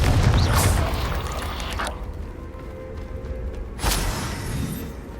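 Confringo fire spells go off in Hogwarts Legacy as deep booming blasts, a loud one at the start and another near four seconds, each fading into a low rumbling tail with no talk over it.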